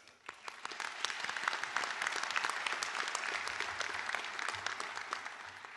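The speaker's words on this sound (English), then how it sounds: "I'd like to first start by giving a round of applause to my fellow colleagues." Steady applause from a large audience at a Doctor of Chiropractic graduation ceremony, many hands clapping densely for about six seconds, fairly distant and even, with a faint low hum beneath.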